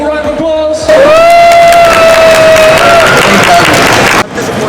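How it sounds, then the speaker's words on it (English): A loud crowd at a gaming festival panel cheers and applauds, whoops and shouts rising over sustained clapping, then cutting off abruptly at the end. "One more round of applause."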